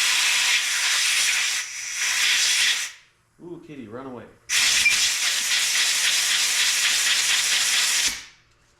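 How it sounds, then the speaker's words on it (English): Compressed air hisses in long, loud, steady blasts, blowing rust out of the PTO clutch on an Oliver Super 88 tractor. A short spoken remark falls in the pause between the bursts. "Blow the rust out."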